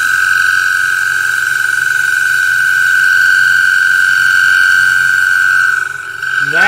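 A wood lathe turning a thinning bowl gives off a steady, loud high-pitched ringing whine as the tool cuts, holding for several seconds before briefly dipping near the end.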